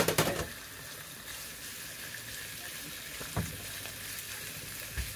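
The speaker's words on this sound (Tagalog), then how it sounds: "Lutuin natin yung pork hanggat sa lumabas yung kanyang sariling mantika." Pork belly sizzles quietly and steadily in a pan as it renders its own fat for adobo sa gata, with a sharper burst at the start and a couple of faint knocks from the pan.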